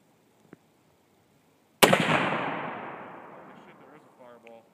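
A Mosin rifle fires a single sharp, loud shot that booms and decays over a couple of seconds, with a faint click just before it and brief talk starting near the end.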